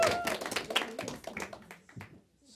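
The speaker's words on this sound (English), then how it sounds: "So, round of applause." A small audience claps for the guitarist at an acoustic performance, a brief scattering of hand claps that thins out, with voices faintly underneath.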